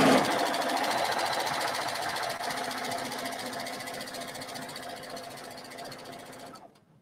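A sewing machine stitches folded fabric for a draped wrap bathing-suit cover-up, running as a steady, fast mechanical whir that continues for several seconds and then stops abruptly near the end.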